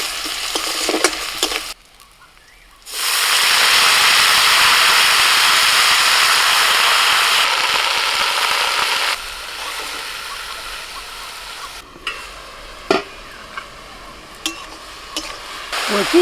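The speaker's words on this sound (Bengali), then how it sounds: "তেলের মধ্যে দিচ্ছি শুকনো লঙ্কা, কাঁচা লঙ্কা," Dried red chillies, green chillies and crushed garlic hit hot oil in a wok with a sudden loud sizzle, settling into a steady frying hiss with occasional stirring clinks before fading back.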